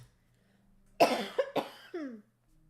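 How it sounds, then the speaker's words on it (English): A person coughs during a livestreamed board game session, a burst of several harsh coughs followed by a throat-clearing rasp, close and loud against a quiet room. "Apologies for coughing."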